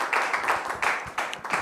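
A studio audience on a French TV talk show applauds a guest's arrival, a steady wash of clapping that swells and dips in waves over a short, moderately loud stretch.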